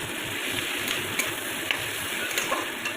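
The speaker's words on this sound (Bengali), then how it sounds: "আরও ভাজতে হবে যতক্ষণ না এগুলো পুরো লাল হয়ে যায়" Tiny kachki fish and vegetables fry in a pan: a close, steady sizzle runs for the whole stretch, broken by light stirring scrapes.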